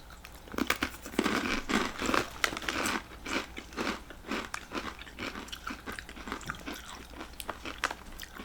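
Someone bites and chews Takis rolled tortilla chips close to the mic, with a steady run of sharp crunches and crackling munching and no talking.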